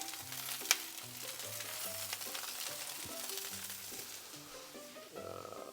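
Broccoli and other vegetables sizzle and caramelise in a hot pan for a steak and broccoli dish, with a steady close frying crackle, a sharp clink near the start and light stirring throughout.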